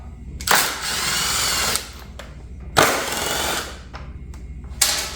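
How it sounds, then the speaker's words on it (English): A power tool whirs in three loud bursts, each lasting about a second, as it works a fairing bolt on a 2008–2016 Yamaha R6 motorcycle, with short pauses between the runs. "now I'm gonna be removing this bolt here and the bolt we have here that's hidden on top"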